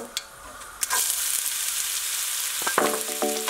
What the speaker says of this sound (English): seeds and mustard seeds have started spluttering. We'll add the onions now.